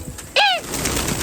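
A single brief pigeon call, a short harmonic falling note, sounds close over a faint steady background hum.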